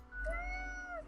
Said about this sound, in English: Meow, the cat meows.